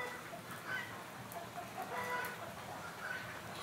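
Chickens cluck and a rooster crows in the early morning while it is still dark, with repeated faint-to-moderate clucks and crows at a distance over a steady background hiss.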